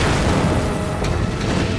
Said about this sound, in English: We engaged that first tank with a heat round.